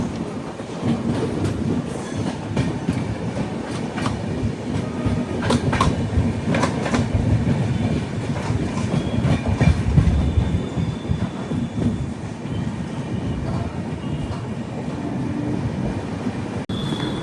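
A summer special passenger train from Visakhapatnam to Kurnool, running near Giddalur, gives a steady loud rumble with rhythmic clickety-clack of wheels over rail joints and faint wheel squeal, continuous throughout with no talk.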